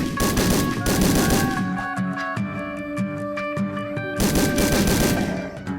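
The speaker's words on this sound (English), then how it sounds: "blue revolver does a fair bit of damage" A blue revolver in the video game Nongunz fires a rapid, dense volley of shots that break off briefly, leaving ringing tonal game sounds, then resume. The volley is loud and close, with no talk over it.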